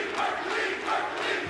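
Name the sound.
cheering crowd at a Call of Duty esports tournament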